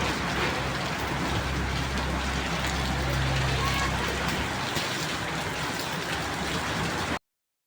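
Heavy rain pours steadily on a rainy day, a dense continuous hiss with low rumbling wind gusts throughout, loud and close, with no voices.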